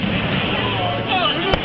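Christmas fireworks crackle and rumble outdoors in a village district of Peveragno as a continuous, fairly loud barrage, with a sharper single bang near the end.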